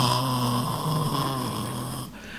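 A voice imitates a wife's snoring, a steady nasal rasp held loud and close for about two seconds before it cuts off abruptly.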